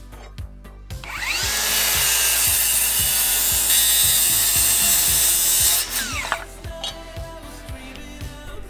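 A power saw whines up and cuts steadily through wooden deck boards for several seconds, then winds down, with knocking and handling noises around it.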